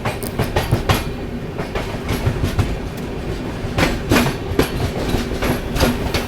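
Tamil Nadu Express train running on rails, a continuous loud rumble with irregular clickety-clack wheel beats heard from inside the moving train, with no voices.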